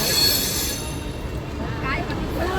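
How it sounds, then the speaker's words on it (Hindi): A passenger train rolls into Varanasi Junction station with a loud, steady rumble of wheels on rails and a thin metallic squeal of wheels on the track. Voices sound faintly under the noise. "तो हमारी ट्रेन पहुँच चुकी है वाराणसी जंक्शन रेलवे स्टेशन पे"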